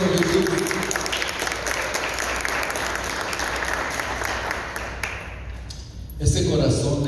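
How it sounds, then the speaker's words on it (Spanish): A church congregation applauds together in a steady, dense wash of clapping that holds for several seconds, then thins out briefly before a fresh burst swells near the end, with some voices mixed into the crowd. "Dale un fuerte aplauso a Cristo Jesús."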